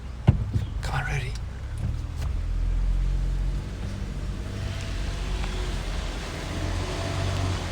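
Cars drive by on a road in Japan, a low rolling rumble that swells and fades at a middle distance, with faint voices in the background.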